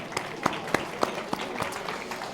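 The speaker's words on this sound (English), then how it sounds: "Yeah, a round of applause, thank you." Audience applause at a Southampton Football Club player awards evening in 2019, a moderate stretch of scattered clapping with a few sharper claps standing out, steady and fairly even throughout.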